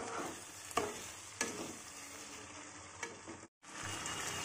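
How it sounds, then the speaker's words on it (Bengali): Spice paste, to be cooked down with cauliflower and potatoes for a fish curry, sizzles softly and steadily in a pan, with a few sharp scrapes of stirring and a brief dropout near the end. "এবার মশলাটাকে একটু ভালো করে নেড়ে চেড়ে নিয়ে এর মধ্যে আমি ফুলকপি দিয়ে আর আলু দিয়ে মশলা দিয়ে ভালো করে কষে নেব"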